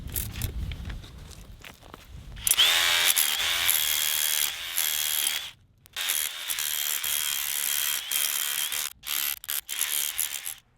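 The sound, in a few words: DEWALT power hammer busting concrete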